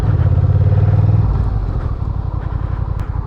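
A motorcycle ridden fast close by, its engine roaring loud and steady with a strong low rumble that shifts partway through to a choppier, pulsing note as it changes pace.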